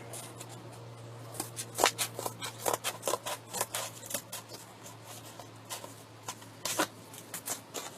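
Scissors snip through Dollar Tree mesh for a Halloween lantern, a steady run of crisp close cuts and rustles over a faint constant hum.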